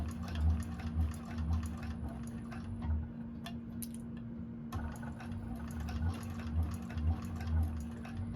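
A Juki 1341 cylinder-arm sewing machine stitches across a crossbody bag at stitch length 4.5, a steady close whirring run of needle strokes that pauses briefly midway, then resumes.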